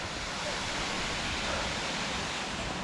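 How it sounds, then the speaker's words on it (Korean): Boyana waterfall on Vitosha mountain near Sofia, Bulgaria, rushing as a steady, dense roar of falling water, close and unbroken, with no voices over it. "우리는 이제 이 보야나 폭포를"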